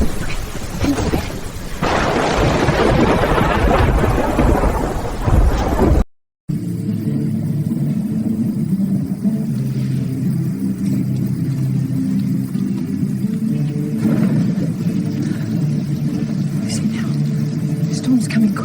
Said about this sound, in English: Thunder rolling in.